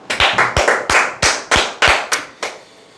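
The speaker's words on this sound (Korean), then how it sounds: "박수 한번 치시죠." A seminar audience gives a round of hand claps, about ten crisp, loud slaps in an uneven beat that slows and stops abruptly, leaving near silence at the end.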